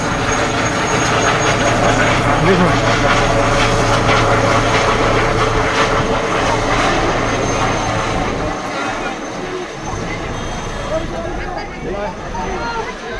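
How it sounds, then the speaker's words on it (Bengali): A helicopter departs at sunset in Arambagh, its rotor and engine roar loud and steady, easing slightly toward the end, while a person speaks briefly over it. "এটা হচ্ছে অমিত শাহজির হেলিকপ্টার"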